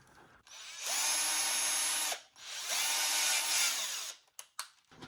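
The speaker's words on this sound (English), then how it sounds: "with your 1/4 inch drill bit, we're just going to center it and drill all the way through" A power drill with a 1/4 inch bit bores through a plastic toy wand part in two sustained whining bursts, each about a second long, followed by a few short clicks and handling knocks.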